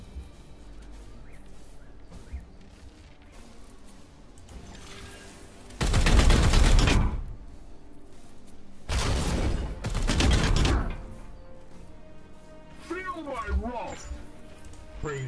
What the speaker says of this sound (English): Let's first of all get that support fire out.